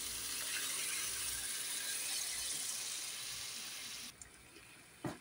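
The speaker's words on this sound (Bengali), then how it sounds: "হালকা একটু পানি দিয়ে দিব আলু সিদ্ধ হওয়ার জন্য।" Water is poured into a pot of potato curry so the potatoes can finish boiling, a steady splashing stream that runs for about four seconds, then stops, followed by a couple of soft clanks.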